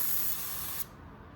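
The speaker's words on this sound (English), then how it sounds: "we're gonna do another spray out here" A spray gun hisses out automotive clear coat onto a panel in one steady, close burst that cuts off abruptly partway through, then faint background hiss remains.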